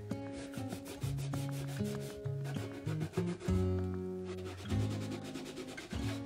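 A rag rubbing wet paint off furniture to distress a colorful boho finish, giving steady close scrubbing strokes in repeated back-and-forth passes with no speech.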